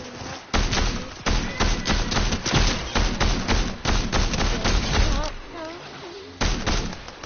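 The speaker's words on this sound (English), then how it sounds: "Oh, someone's shooting at us." Gunfire in a building-and-shooting video game, a rapid run of sharp shots in bursts with a short pause, loud and close, while voices talk over it.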